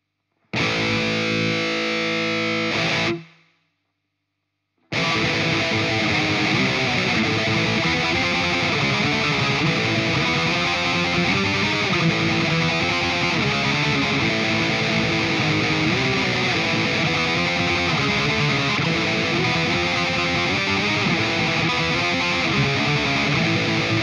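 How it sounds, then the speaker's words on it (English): A heavily distorted electric guitar plays a black metal riff, with a short opening phrase, a brief silence, then a long, dense, fast tremolo-picked passage. It is loud and close, with no drums or talking. "let me just play the riff for you so you just hear it with the guitars and without the drums"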